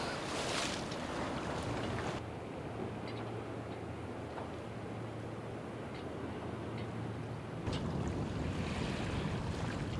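Waves lap and wash against a sailboat sailing solo in a bay, a steady soft rush with a low engine-like hum beneath and occasional knocks, no talking.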